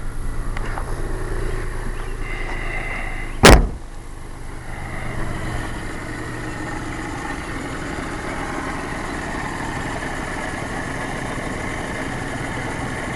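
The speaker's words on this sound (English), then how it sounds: "Engine shakes a tiny bit, but that's because it's a 3-cylinder Geo Metro." A rebuilt three-cylinder Geo Metro engine idles in a convertible, a steady low rumble with a slight shake, preceded by one sharp knock or click near the start, with no talking.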